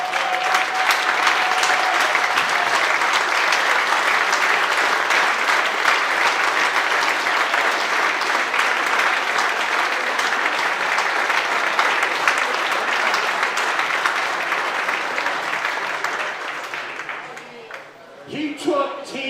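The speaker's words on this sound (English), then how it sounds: "I'm going to go ahead and take my chance to give this guy a standing ovation" A standing ovation at a Richland Baseball event, dense sustained applause from the audience that rolls on strongly before tapering off near the end.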